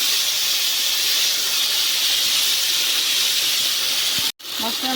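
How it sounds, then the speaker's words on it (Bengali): Paste of ginger, garlic, onion, dried chili and cumin hitting hot oil, giving a loud, steady sizzling hiss with a short clatter near the end. "আদা রসুন পেঁয়াজ শুকনো লঙ্কা জিরে সব বাটা বেটে রেখেছিলাম, এটা দিয়ে দিলাম"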